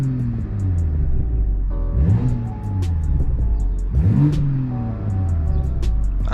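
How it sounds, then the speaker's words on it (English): A 2021 Toyota Supra engine with stock exhaust and aftermarket intake revs up twice from a low idle, each rev rising sharply then falling back, loud and close with a steady rumbling exhaust between. "I love the way the stock exhaust sounds."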